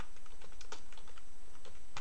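A computer keyboard with an AZERTY layout clatters as a Linux command is typed, a quick irregular run of close, crisp keystrokes with no talking.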